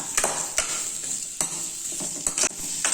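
Onions sauté on a high flame for a soya chunk curry, giving a close, continuous sizzle broken by several sharp scrapes and clacks of a spatula stirring against the pan.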